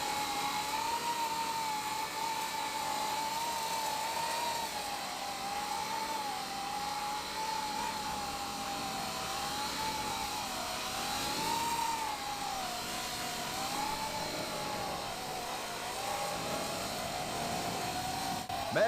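A drone with conventional propellers hovers near the ground with a smooth, sustained whine that wavers gently in pitch over a long, even stretch.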